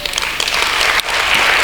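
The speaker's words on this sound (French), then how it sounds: "Et vraiment, on peut l'applaudir." Audience at a closing speech of an occupational health congress in Dijon bursts into loud, dense applause, a continuous close wash of clapping with a brief dip midway.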